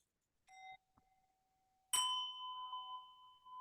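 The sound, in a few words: bell rung over an online call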